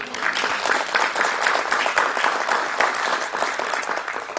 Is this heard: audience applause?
yes